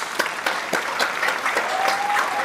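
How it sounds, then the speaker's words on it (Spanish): Studio audience applause for a guest being welcomed on a Spanish-language talk show, a dense steady burst of clapping with a few sharper individual claps standing out, plus a faint whistle-like tone near the end. "Fuerte aplauso para Alicia, por favor"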